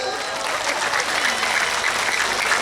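An audience claps at a religious history talk with Gus Muwafiq, a full, continuous round of applause from many people that stays steady and fairly close from start to finish, with no speech on top.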